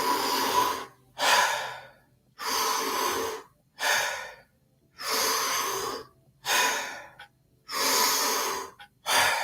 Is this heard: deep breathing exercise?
yes